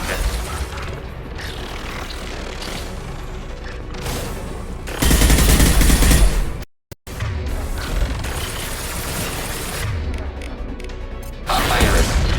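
Gunfire in the sci-fi video game Mass Effect 2, a dense continuous rattle of shots and impacts at high level, with a heavier burst midway, a momentary cut to silence, then more firing.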